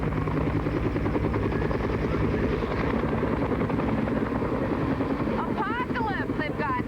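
Helicopter gunships approach with a steady, pulsing rotor thump that stays loud and continuous, with chattering voices and other sounds layered over it near the end.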